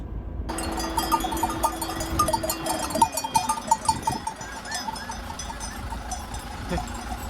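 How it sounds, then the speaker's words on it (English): A flock of sheep on a farm road in Albania, with clanking bells and occasional bleats at close range over a steady outdoor background. "we realised there's all these sheep"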